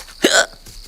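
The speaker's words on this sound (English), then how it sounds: "Now I've got the hiccups too." A single sharp hiccup sounds up close, with a second one starting right at the end.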